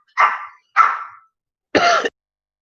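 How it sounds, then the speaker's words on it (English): Three harsh coughs, the first two close together and trailing off, then a pause before a third, sharper one; close and fairly loud, no talking. "I'm gonna cough again"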